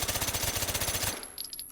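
A suppressed Scorpion submachine gun fires one full-auto burst of rapid, evenly spaced muffled shots for about a second. The burst stops abruptly, leaving a faint ringing tail.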